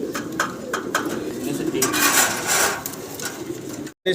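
Pigeons coo steadily at a large pigeon farm in Bangladesh, a dense, close chorus of overlapping coos with occasional wing flutters and clatter, continuing almost without pause before a brief cut near the end.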